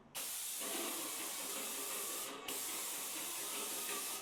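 An airless paint sprayer shoots a jet of paint with a loud, steady hiss that runs nearly the whole time, broken by one brief dip partway through.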